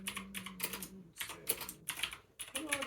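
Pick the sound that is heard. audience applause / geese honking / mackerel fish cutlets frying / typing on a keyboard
typing on a keyboard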